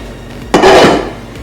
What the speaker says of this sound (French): Je prends une casserole d'à peu près cette grosseur-là. Je la mets sur le rond ici.